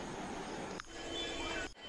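A train at Safarmukh junction station in Assam, a steady low rumble and rattle of rolling railcars with brief clanks, heard faintly from on board.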